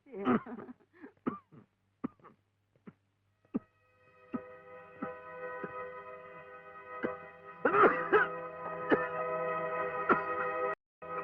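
A man coughs in a few short, sharp bursts, followed by a sustained buzzing hum with a couple more harsh coughs over it.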